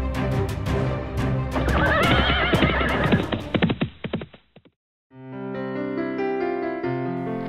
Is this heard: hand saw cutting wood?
no